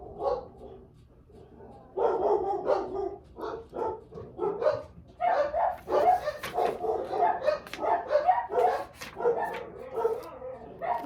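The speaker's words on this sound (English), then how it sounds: "I guess while they're barking." Dogs bark repeatedly at a moderate distance, a run of irregular barks and yips with a few whimpers, fairly faint against a quiet background.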